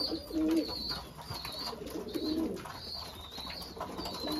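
Pigeons cooing close by, repeated soft throaty coos in an irregular rhythm over faint background noise, no talking.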